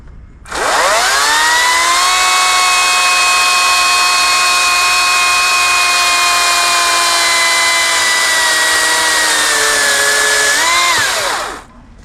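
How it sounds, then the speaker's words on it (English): A lithium-ion battery chainsaw cuts through a Christmas tree trunk, giving one steady, loud, high-pitched whine that runs for about eleven seconds and then winds down, with no talking. "So we have the old handy dandy lithium ion chainsaw."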